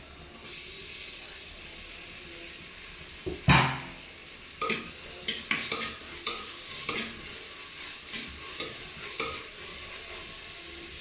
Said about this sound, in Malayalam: നമുക്ക് തക്കാളി ഇഞ്ചി വെളുത്തുള്ളി ഒക്കെ ഇട്ട് കൊടുക്കാം